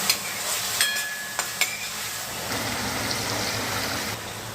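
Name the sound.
vegetables being sautéed and stirred in a pan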